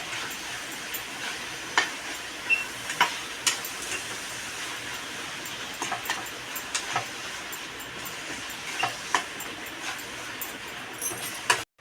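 Jaggery and coconut filling being sautéed in a pan, a soft steady sizzle under repeated sharp scrapes and taps of a spatula stirring the mixture.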